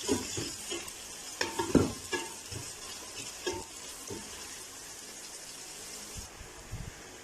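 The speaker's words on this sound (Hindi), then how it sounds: "प्याज को हल्का सुनहरा होने तक जो है वो" Onions sizzle and crackle in a hot pan, with occasional scraping stirs and clinks near the start, fairly quiet and steady.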